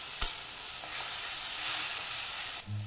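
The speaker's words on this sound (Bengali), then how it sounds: "গ্যাসটা একদম কমিয়ে রেখে এই মশলাটা একটু ভেজে নেব" Chili, cumin, coriander and Kashmiri chili powders fry over very low gas for a pointed gourd and paneer dish, a soft steady hiss with a single clink near the start.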